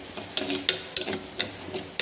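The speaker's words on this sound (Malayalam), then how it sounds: "ഇതെല്ലാം കൂടി മിക്സാക്കി ശരിക്കും വഴറ്റിയെടുക്കുക" Tomato curry masala with homemade meat masala and spices being sautéed and stirred in a pan, giving a soft steady sizzle broken by several scraping stirs of a spoon, close up and alone.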